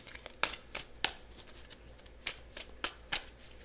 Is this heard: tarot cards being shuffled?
yes